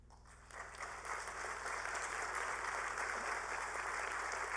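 A large audience at a university graduation ceremony applauds fellow graduates, building from quiet into a full, sustained roar of clapping in a big hall.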